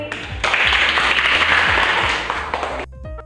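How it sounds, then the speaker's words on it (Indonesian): Classroom audience applauding a student's answer during a micro-teaching lesson, a brief dense burst of clapping lasting about two and a half seconds, with a faint tonal hum underneath. "Mari kita berikan tepuk tangan"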